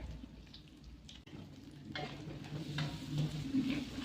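Soft scraping and light sizzling as chicken liver and gizzards are stirred in a pan before green beans are added, a steady low cooking hiss with occasional utensil clicks.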